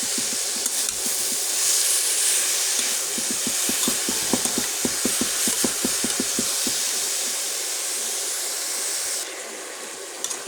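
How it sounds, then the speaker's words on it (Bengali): Beetroot laddu mixture with sugar stirred in a pan, a steady hiss of steam under a run of quick, rhythmic scraping strokes that bunch together in the middle, close and fairly loud with no talking. "চিনি দিয়ে সুন্দর করে আমরা নাড়তে থাকবো"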